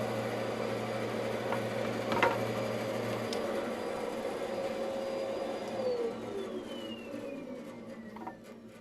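A bandsaw runs at a steady drone in a home workshop while cutting a workpiece in half, with a faint whine that glides downward toward the end.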